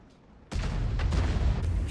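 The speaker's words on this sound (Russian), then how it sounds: "Я сейчас тоже, кстати, выстрел сделаю и налево побегу" After a quiet moment, a heavy M53/M55 self-propelled artillery blast booms sharply in World of Tanks, followed by further rumbling detonations that keep the sound loud to the end.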